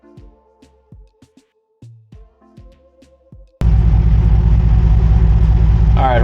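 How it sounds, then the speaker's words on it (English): A few quiet, hesitant sounds give way abruptly to a loud, steady truck engine idle, likely a GMC Sierra, that rumbles on evenly to the end. "I did have to start my truck"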